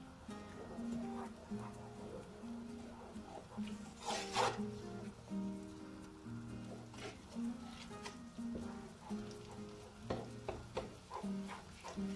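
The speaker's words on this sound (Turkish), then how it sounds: "Tel şehriyeleri kızarıncaya kadar kavuruyorum." Vermicelli noodles toast in melted butter in a pan, making a quiet soft sizzle under repeated scraping and stirring strokes of a utensil, with one louder scrape partway through.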